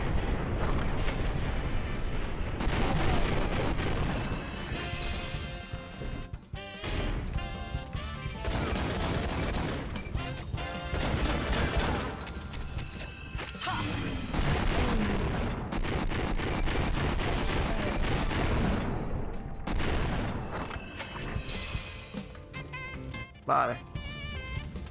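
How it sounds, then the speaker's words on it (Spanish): Rapid, dense explosions and bursts of gunfire from the action video game 10,000 Bullets fill the whole stretch, loud and chaotic, with crashes layered throughout. "explosiones a mansalva aquí."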